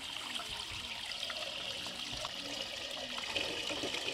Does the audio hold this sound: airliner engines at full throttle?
no